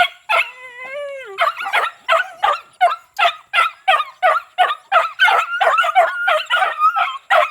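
Dogs bark repeatedly outdoors, one giving a drawn-out howling whine before a rapid, rhythmic run of loud, close barks and yelps that continues without pause.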